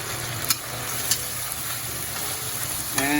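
Green onion goes into Taiwanese three cup chicken in a hot pan, giving a steady close sizzle and frying hiss with a few light clicks of stirring and a brief bubbling burst at the end.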